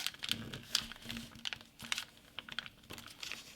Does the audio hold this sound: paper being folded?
yes